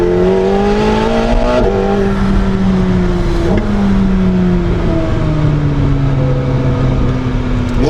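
A fast race car engine screams loud and close as it accelerates through a corner, its pitch climbing and dropping with each gear change, over a constant roar of wind and tyres.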